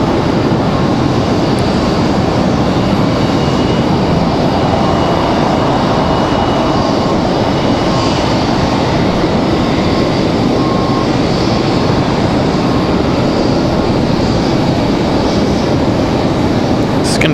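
A FedEx cargo aircraft taxiing at Raleigh-Durham airport gives a loud, unbroken engine roar and hiss that holds steady throughout, without pause.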